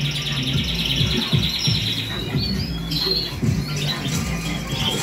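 Many canaries chirp and twitter together in a busy aviary, producing a continuous overlapping chorus of bright calls and trills close by, with faint rustling and low background hum beneath.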